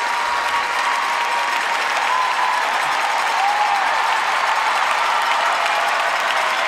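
A packed figure skating arena roars with cheering and applause for Yuna Kim after her short program, a loud continuous wall of clapping and shouts with a few whistles rising above it.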